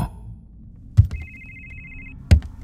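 A cellphone ringtone sounds as a single steady electronic tone lasting about a second, framed by two dull thumps just before and after it.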